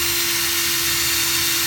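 A drill fitted with a Parkside step cone bit bores into wood, giving a loud, steady whirring grind with a constant whine that never lets up.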